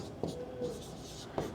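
Chalk or marker scratching across a board during a maths lesson, with two sharp tapping strokes and a faint squeaky line between them, close and fairly quiet.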